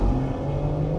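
A BMW X3 M SUV with over 500 horsepower accelerates hard, its engine note a steady low rising drone heard from inside, brief and fairly loud.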